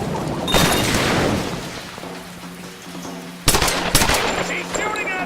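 Gunfire in the video game Tomb Raider (2013), with bursts of rapid shots that first sound steady and close, then give way to sharp, loud cracks near the end, all set over a dense, busy game soundscape.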